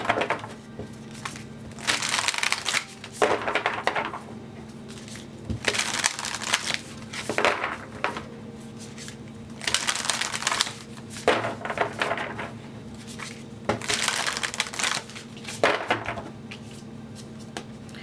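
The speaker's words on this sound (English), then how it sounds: "And then I have the Divine Energy Oracle cards here that I'm also going to shuffle." Tarot and oracle cards being shuffled by hand, a steady run of crisp riffling and slapping bursts repeating every second or two over a low hum, with no talk.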